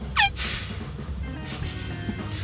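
A voice imitates a bus pulling away: a quick, loud squeal sweeping downward, then a breathy hiss that fades over about half a second, followed by quieter room noise.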